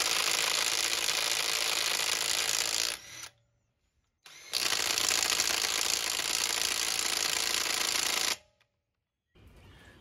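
A cordless impact driver runs in two long, loud, steady bursts of about three and four seconds each, separated by short silent pauses, with no talking over it.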